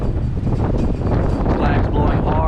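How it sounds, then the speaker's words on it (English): Strong gusts from Hurricane Ida buffet the microphone on the Orange Beach, Alabama shore, a loud, continuous roaring rumble with surging peaks and flags flapping hard, likely with surf beneath. "Flags blowing hard from the wind"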